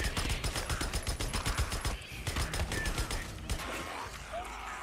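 Gunfire from shooting in the video game Days Gone: a rapid burst of loud repeated shots, a brief pause, then more shots fading into scattered softer impacts, with no speech.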